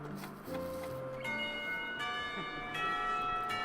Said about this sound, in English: I rub my eyes as the lunch bell rings out